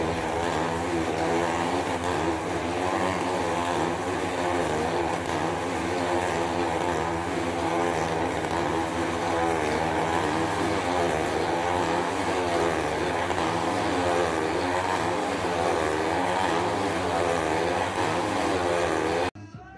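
A motorcycle stunt ride at a circus: a steady, loud engine drone with a continuous buzzing tone runs unbroken for about twenty seconds, then cuts off abruptly at the end.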